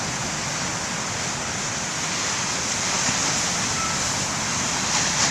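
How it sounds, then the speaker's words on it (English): Ocean surf breaking at the main lighthouse beach, a steady broad wash of rushing water that holds evenly loud throughout, with no distinct individual crashes standing out. "I'm sorry the size of the waves are not as big as I hoped they'd be"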